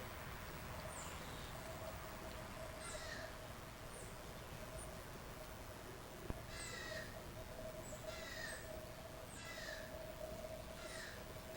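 Faint, high squeaky calls of a titmouse come in short repeated bursts over a steady outdoor hiss in woodland, with a thin background hum and no voices.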